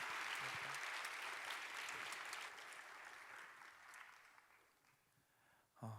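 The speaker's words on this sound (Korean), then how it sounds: "귀한 나눔 해준 우리 재영 형제님께 뜨겁게 박수하도록 하겠습니다" A crowd applauds steadily with dense clapping that gradually fades out, with no talking over it.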